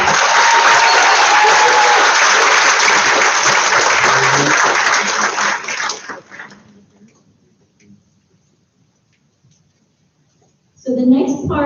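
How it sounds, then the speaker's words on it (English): Loud, dense audience applause at a high school IB pinning ceremony for the class of 2021 fills the first six seconds, then fades out into near silence before a sudden burst of sound near the end. "Let's give another round of applause."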